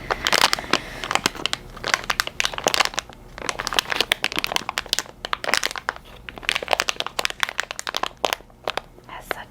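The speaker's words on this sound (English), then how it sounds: "These are the makeup wipes." A plastic package of Equate Beauty makeup wipes is crinkled and squeezed up close in dense, irregular bursts of crackling, with soft pauses between handlings.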